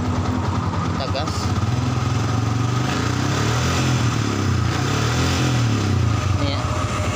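A Yamaha Vixion fuel-injected motorcycle engine runs steadily and loud nearby, its rumble rising slightly as the throttle is blipped, with someone talking over it throughout.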